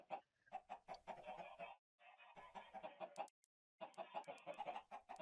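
Chickens cluck repeatedly in a Minecraft StoneBlock 3 world, a steady run of close, moderately loud fowl calls broken by two short silent gaps.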